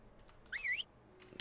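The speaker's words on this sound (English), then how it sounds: "Let's whistle the wolf." A single short warbling whistle in the ARK: Scorched Earth video game, issued as a command to a tamed dire wolf, clear and brief against a quiet background.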